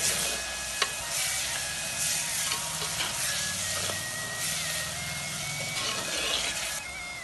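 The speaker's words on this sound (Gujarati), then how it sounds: "બધું બરાબર મિક્સ કરી લઈએ." A spoon stirs kali ni bhaji with garlic chutney and jaggery in a hot pan, soft sizzling running throughout under scraping strokes and occasional sharp clinks against the metal, close and alone.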